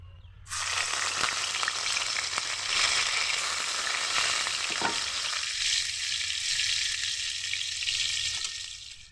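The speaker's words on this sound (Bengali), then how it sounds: "কাঁচা লঙ্কা আর রসুন থেতু করা এটা দিয়েই পাঁচ ভাজা করে নেবো" Green chilli and garlic paste frying in hot mustard oil in a wok, a loud steady sizzle that bursts in right after it hits the pan and crackles continuously, with occasional stirring scrapes.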